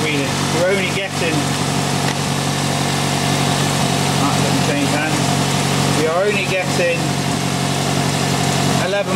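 A car engine idles with a steady, rumbling drone throughout while someone talks close by during an alternator check, with the battery reading only 11.8 volts.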